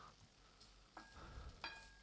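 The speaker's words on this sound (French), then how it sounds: "Je remue, je mélange bien parce que comme ça, vous êtes sûr que vous avez de la graisse du canard sur toutes vos pommes de terre" Potatoes stirred in duck fat in a frying pan, with soft scraping strokes and a low, steady sizzle, close and quiet.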